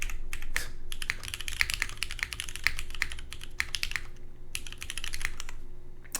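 Crisp individual keystrokes on a Bowl Keyboards OC-62 mechanical keyboard wearing KKB keycaps, typed in quick uneven bursts up close with no talking.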